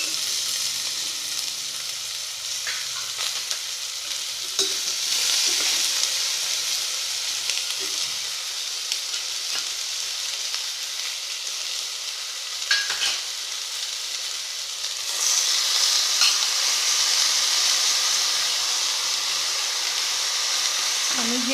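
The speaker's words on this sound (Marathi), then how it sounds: "यामध्ये आपल्याला एक एक करून सर्व भाज्या थोड्याशा फ्राय करून घ्यायच्या आहेत" Mixed vegetables frying in oil for street-style pav bhaji, a loud, close, continuous sizzle with occasional spoon scrapes and clinks, swelling louder toward the end.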